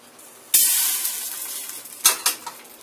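A very hot pan gives a sudden loud burst of sizzling that starts abruptly and slowly fades, followed by a few sharper hissing spurts near the end, with no talking.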